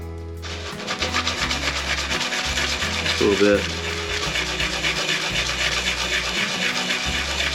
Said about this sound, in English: Give him a little bit of sanding on the inside with some 220 just to get him nice and smooth.